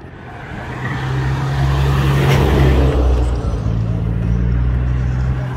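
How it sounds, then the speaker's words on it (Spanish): A car crossing a bridge, a steady rumble of engine and tyres that swells as it passes close, with road noise throughout. "Ese es el último carro."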